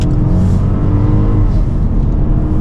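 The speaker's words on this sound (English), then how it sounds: "And full throttle." A 2022 Ford Focus Active at full throttle while merging onto a highway gives a loud, sustained engine drone that climbs in pitch with road and wind noise, heard from inside the cabin.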